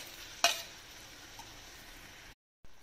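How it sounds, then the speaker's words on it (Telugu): Tomato peanut chutney is poured into hot oil in a pan on high flame with a sharp splatter, then settles into a soft, steady sizzle, close by, before a brief dropout near the end. "స్టవ్ హై ఫ్లేమ్ లోనే పెట్టుకొని ఈ ఆయిల్ లో ఈ చట్నీని చక్కగా ఇలా 1 నిమిషం పాటు బాగా కలుపుకోవాలి"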